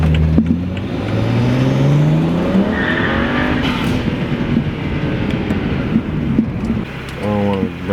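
A BMW 335i with the N54 engine accelerating hard with traction control off, the engine note rising loudly and continuously with a roaring rush close by; someone speaks briefly near the end.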